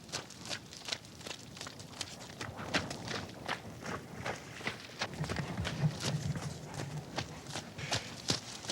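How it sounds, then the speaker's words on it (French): A horse trots with a steady, rhythmic clip-clop of hooves that repeats at an even pace for several seconds, fairly close and moderately quiet. "Cette façon-là de courir pour un cheval, ça s'appelle le trot."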